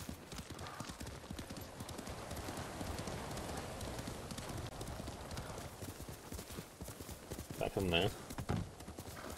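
Horse hooves clip-clop steadily in the Ghost of Tsushima video game, a continuous rhythmic trotting with a brief whinny-like burst near the end, while a person speaks quietly over it.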